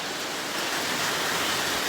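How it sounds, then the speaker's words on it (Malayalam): Steady rain falling outside a house, a broad even hiss that holds at a constant level throughout with no breaks or voices. "ഇതാ നല്ല മഴയൊക്കെ വരുന്നുണ്ട്, കണ്ടില്ലേ?"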